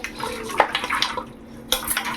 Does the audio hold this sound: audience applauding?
no